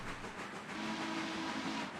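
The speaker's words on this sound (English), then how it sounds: "Love the confident whistle." Train whistle in the Railroader railroad simulation game: a sustained steam whistle tone of medium pitch holding steady for over a second, moderately loud over a dense, hissing background rumble, with no talking.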